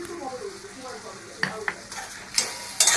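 Spice paste of chilli and tomato sizzling softly in a pan, with a few sharp clinks and scrapes of a spoon against the metal near the end, close and fairly quiet.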